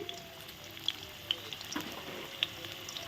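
Potatoes frying in a pan for a banana-flower kofta dish, turned now and then, giving a soft steady sizzle with a few light spoon taps over the crackle, fairly quiet and close, no talking.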